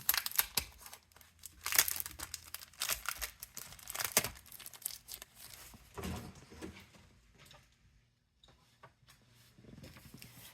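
Sheets of red craft paper crinkle and rustle as someone sorts through a stack, with bursts of crumpling and sliding through the first half, then sparser, quieter handling toward the end.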